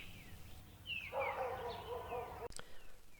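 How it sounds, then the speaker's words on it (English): A dog barks up on a hill in the Australian bush, distant and fairly faint, with a short run of drawn-out yelping calls over outdoor background noise. "There's a dog barking up on the hill behind me."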